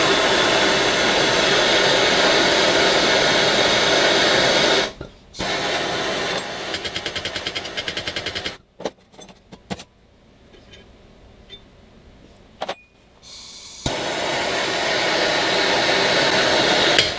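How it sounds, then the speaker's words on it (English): A gas torch flame roars steadily while heating the spindle pulley and bolt on a classic lawn tractor mower deck, cutting out and returning in bursts with brief quieter gaps. "The whole idea is to heat the pulley. And I know the flame wavers over the bolt and everything."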